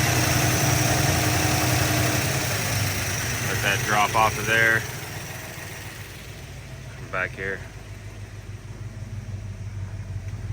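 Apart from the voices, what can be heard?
car engine idling after startup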